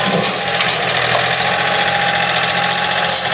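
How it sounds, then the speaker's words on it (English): A John Deere tractor with hydrostatic drive idles close by, a steady, loud mid-pitched engine drone with a faint knocking vibration and no voices over it. "We'll go ahead and fire this tractor up and show you how it runs."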